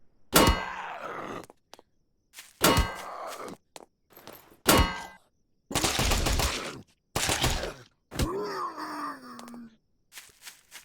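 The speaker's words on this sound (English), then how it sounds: "This guy that's smashing on here is annoying me." Repeated heavy metallic clangs and thuds come from an enemy smashing on a structure in Night of the Dead on hardcore mode. The bursts are separated by short silences, and a groaning tone follows the last impact.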